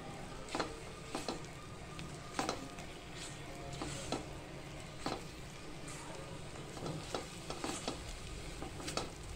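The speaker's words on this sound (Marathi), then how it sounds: "अशा प्रकारे छानपैकी आपण आता हे परतून घेणार आहे" Malvani bangda (mackerel) masala curry is sautéed in a pan with a soft, steady sizzle. A spoon scrapes and taps against the pan in repeated sharp strokes throughout.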